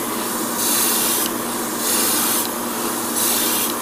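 An airbrush spraying paint onto 1/100 Gundam Barbatos model parts, giving three short bursts of bright airy hiss, each roughly a second long and separated by brief pauses over a low background hum.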